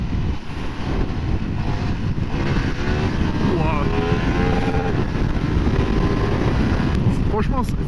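A KTM 1390 Super Duke motorcycle pulling hard under acceleration from the rider's position, its engine note rising in quick climbing sweeps through short gears, buried under strong rushing wind noise.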